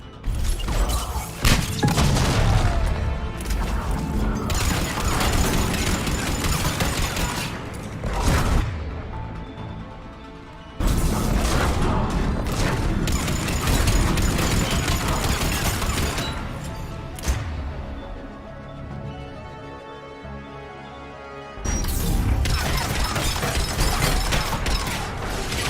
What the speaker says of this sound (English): This thing is shooting missiles at us